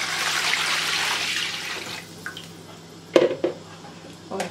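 Water pours into a cooking pot being reused for making kadhi, a hissing splash for about two seconds, then quieter with a few clinks of the vessel afterward.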